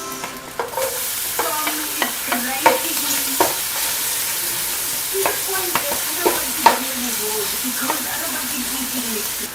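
Onions sautéing in a pan for a Filipino-style spaghetti sauce, a constant close sizzle punctuated by repeated spoon scrapes and taps against the pan, with a voice briefly heard.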